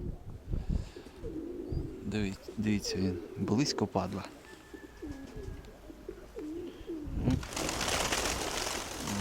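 Pigeons cooing and wings fluttering close by, with someone talking excitedly over them and a burst of flapping near the end.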